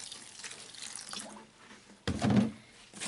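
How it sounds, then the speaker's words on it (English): Water dumped from a container onto dry potting mix, a rushing splashy pour that swells briefly and then returns in a stronger burst near the end, close and clear with no talking. "now I'm going to dump some water in and pre-moisten it"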